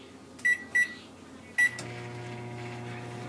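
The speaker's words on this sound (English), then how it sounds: "we're gonna put the soap in there, right? Close it. Close the microwave." A microwave oven with a bar of soap inside beeps three times as its controls are pressed, then starts running with a steady close hum and whir.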